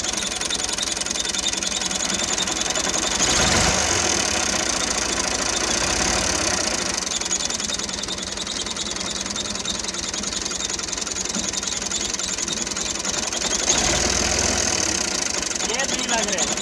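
A tractor engine runs steadily at a loud, close idle with a knocking diesel rumble while gears are worked, two brief low thumps marking the shifts.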